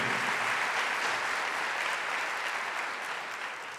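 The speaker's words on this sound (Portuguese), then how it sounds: "vamos aplaudir essas pessoas que estão acordadas" An audience applauding steadily and densely, a loud continuous wash of clapping that tapers slightly toward the end.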